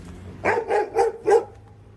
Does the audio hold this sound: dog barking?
yes